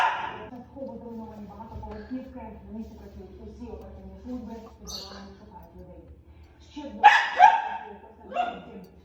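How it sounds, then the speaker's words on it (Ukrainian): A dog barking in an animated cartoon scene, short yips heard under ongoing character dialogue and music, moderately close and fairly quiet against the voices. "Хто це гавкає?"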